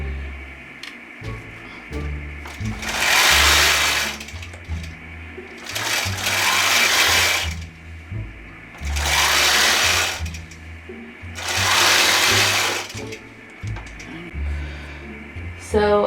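A longarm quilting machine sews quilt binding in four long, loud bursts of steady mechanical whirring, separated by short pauses filled with quieter clunks and low hum.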